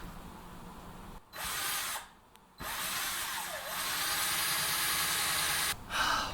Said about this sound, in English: you've seen exactly how much drilling I've done, which is a massive amount